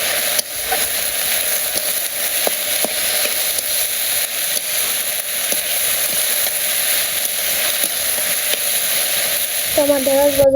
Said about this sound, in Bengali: তো আমার ঢেঁড়স ভাজা হয়ে গেছে